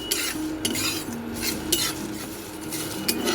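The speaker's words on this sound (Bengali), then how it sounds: "ধনে দিয়ে দিলাম, একটু জিরে দিয়ে দিলাম, দালচিনি দিয়ে দিলাম, এলাচ দিয়ে দিলাম। একটু ড্রাই রোস্ট করে নেবো আমি।" Coriander, cumin, cinnamon and cardamom dry roasting in a pan, stirred with repeated scraping and clinking strokes of a utensil against the metal, close and steady with no talk.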